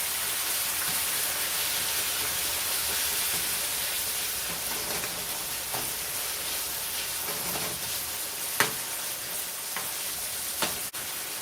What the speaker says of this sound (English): I'm going to finish browning this up and then drain the grease